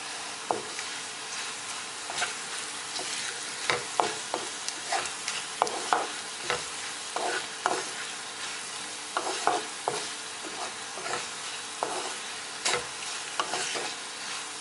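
Asafoetida fries in a pan while a spoon stirs and scrapes, steady sizzling under frequent clicking and scraping strokes, close and moderately loud, with no talk.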